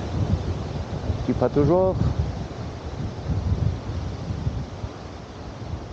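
Wind blows steadily across a campsite swimming pool in Balerma in February, a constant broadband rush buffeting the microphone, with someone speaking briefly over it.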